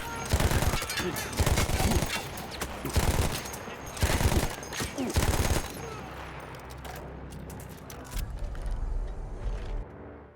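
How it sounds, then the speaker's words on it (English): Machine gun fire in the Battlefield 1 World War I campaign comes in loud repeated bursts of rapid shots, with explosive booms and fading rumble and debris afterward. "I had to remove them before I could use the gun myself."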